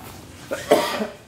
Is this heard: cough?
yes